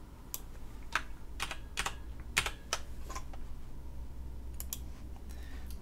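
Steady typing on a computer keyboard in short irregular bursts of clicks, close and clear over a low constant background hum, with no voices.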